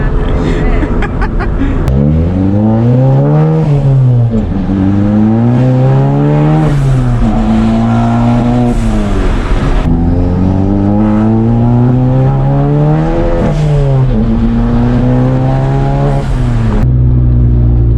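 An Audi A4 accelerating hard through several gears, the engine note climbing steeply and then dropping at each shift, loud and continuous, heard from inside the car with voices talking over it.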